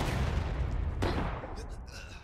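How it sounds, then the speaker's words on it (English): Gunfire in a Roblox Civil War roleplay game: a dense burst of rumbling shots with one sharp crack partway through, fading out at the end. "just fire at them"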